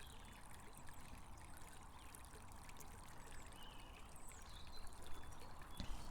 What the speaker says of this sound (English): sitting by a stream with the background noise of the water just gently moving past.